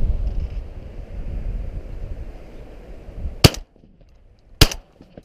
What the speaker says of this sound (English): I shot that one and that one.